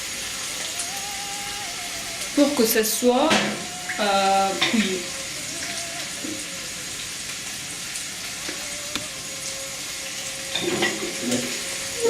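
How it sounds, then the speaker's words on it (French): Meat fries in a pan for Iranian ghormeh sabzi and sizzles steadily as water is added, the crackling hiss continuing throughout while someone speaks French nearby. "je vais ajouter un peu de l'eau"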